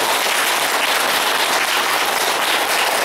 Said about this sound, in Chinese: 所以你们能够选择来上这堂课啊，实在是给你们自己一个掌声